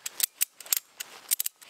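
A ratchet strap is cranked tight around a tree-anchored suspended shelter in winter, giving a quick series of sharp, close clicking ratchet strokes in an uneven rhythm.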